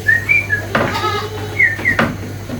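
Goats bleat in short, high, wavering calls, several near cries across a couple of seconds over a steady low hum, with knocks and rustles from feeding on dry and fresh teak leaves.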